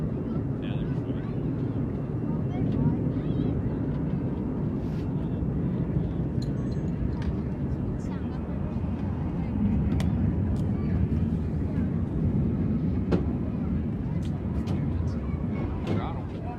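Blue Angels military jets flying over in formation, a broad steady roar that holds throughout, with people talking nearby under the noise.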